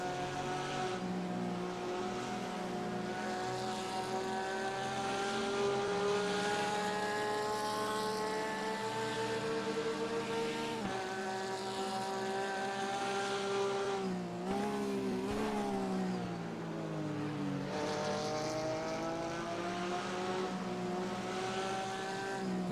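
A race car engine in the RaceRoom Racing Experience sim revs and shifts continuously, its whining tone rising and falling through gear changes with no talk over it.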